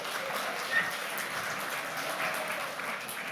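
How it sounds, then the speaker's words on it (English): A live stage audience applauds volunteers during a mathematics-magic performance, a steady continuous wash of clapping at moderate distance with no talk over it. "Let's give these volunteers a nice round of applause."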